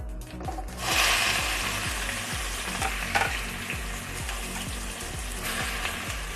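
Two chopped onions saute in oil with fennel seeds for chicken tikka masala. A loud, steady sizzle runs throughout, cut by regular scraping strokes of a stirring spoon.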